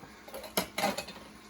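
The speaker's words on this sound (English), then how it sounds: "just pull the lid up" Lid lifted off a pot of chili sauce, a couple of quick metallic clinks and a light scraping rattle, close and soft.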